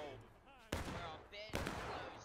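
Gunfire rings out in the Civil War multiplayer game War of Rights: two sharp, distant-sounding shots crack about a second apart. Faint voices murmur between them in a quiet mix.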